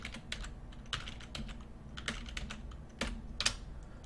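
Quick, crisp keystrokes on a computer keyboard entering a FortiGate CLI command, arriving in short irregular bursts, close and quiet over a faint low hum.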